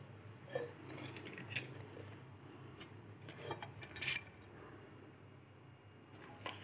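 Clinks and knocks of an aluminium kadai from the BGN brand, with a metal-coated base and a thick handle, being handled indoors, with scattered light metallic taps and rattles over a steady low background hum.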